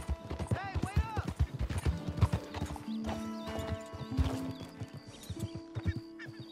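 Horse hooves clip-clopping in Red Dead Redemption 2, a brisk rhythmic trot close by with a whinny and creaking tack, while characters talk over it.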